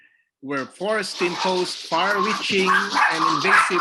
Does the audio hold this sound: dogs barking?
yes